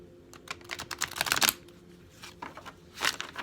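Oracle cards being shuffled close up, quiet papery riffles and flicks in two short bursts separated by a pause.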